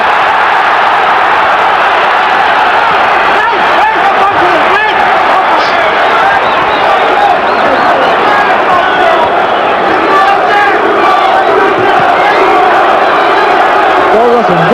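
Roaring boxing crowd at the 1986 Tim Witherspoon vs Frank Bruno heavyweight fight, a dense, loud, continuous wall of cheering and shouting that persists without a break, with a commentator talking over it.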